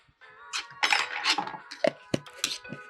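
Shrimp paste, garlic and palm sugar are stirred together for a Thai bamboo-shoot dish, giving close, quick clinks and scrapes of a utensil against a bowl in an irregular clatter, with no talking.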